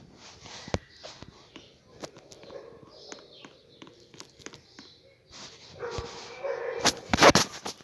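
Dogs bark and scuffle in short, irregular bursts, with footsteps and sniffing between, growing louder and more agitated toward the end.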